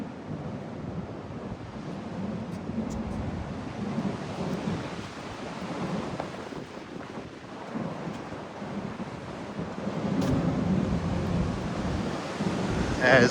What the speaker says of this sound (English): Just maybe a 5-mile-an-hour wind, 5 or 7-mile-an-hour wind right here on the Pacific Ocean.